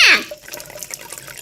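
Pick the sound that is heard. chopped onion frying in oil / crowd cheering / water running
water running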